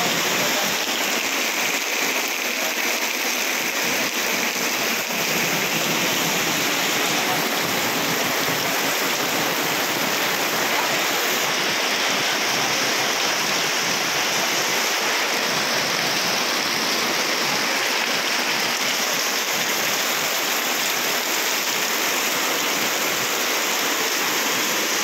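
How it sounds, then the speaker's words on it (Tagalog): Very heavy rain pours down during a typhoon as a dense, loud, unbroken hiss of water drumming on surfaces. It stays steady throughout with no voices. "Paano ka makapaglingap nito pag ganito ang kalakas ng ulan"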